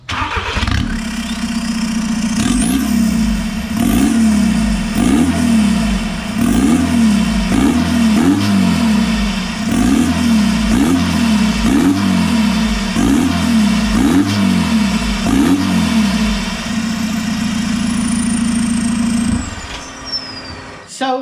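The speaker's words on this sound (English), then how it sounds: "So as you can see in that before video, the car is pretty loud on the highway." A diesel TDI Jetta with a hood stack exhaust drones loudly at highway speed, a steady, heavy rumble with a rhythmic pulsing throb that continues for about twenty seconds before cutting off.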